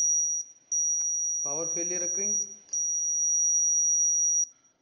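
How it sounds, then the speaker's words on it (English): Arduino-based wireless alarm buzzer sounding a loud, steady high-pitched tone in long sustained bursts with brief gaps, as a synthesized voice speaks over it partway through. "and buzzer beeping"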